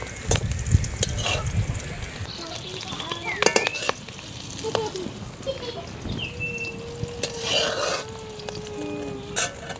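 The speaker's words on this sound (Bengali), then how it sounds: "সেজন্য হালকা করেই ভেজে নেব।" Eggs frying lightly in hot oil for a curry with Malabar spinach, a close, steady sizzle with occasional sharp crackles and the clatter of a spatula against the pan.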